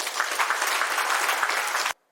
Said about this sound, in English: I think we should all give them a big round of applause for their efforts.